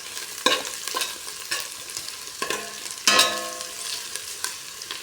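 Octopus adobo stirred in a pan, sharp spoon clacks against the metal every second or so over a soft continuous sizzle, close and without talk.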